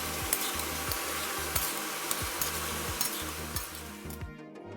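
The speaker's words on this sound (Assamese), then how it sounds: "এতিয়া মই কাটি থোৱা বিলাহীখিনিও ইয়াত দি লৈ মই ভালদৰে গোটেইখিনি ভাজিছোঁ" Ginger, garlic, onion, chili, capsicum and tomatoes sizzle and fry in a pan with a steady hiss, while a low, rhythmic hum pulses beneath and a few stirring scrapes punctuate it before the sound cuts off.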